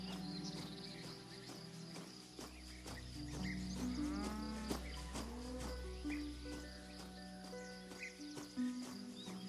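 A horse in the fantasy role-playing game Swordhaven: Iron Conspiracy, with a low snort and a rising whinny standing out over a bed of insect chirps and ambient game music, no talk.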